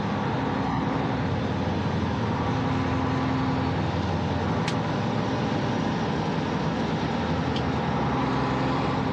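Race trucks of the European Truck Racing Championship circle the Zolder circuit, a constant dense engine drone heard from a distance without pause, with no voices.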